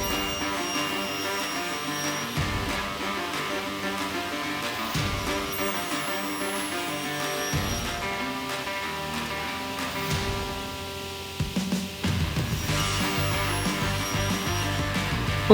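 A woodworking cutting tool runs steadily through a profile pass on wood, loud and continuous with a dense whirring roar, its pitch dipping briefly near the end before resuming.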